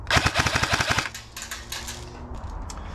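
An airsoft gun fitted with a Kestrel V2 electronic trigger unit fires a fast burst of about ten sharp, evenly spaced semi-auto shots, loud and close, then falls to a quieter mechanical whir.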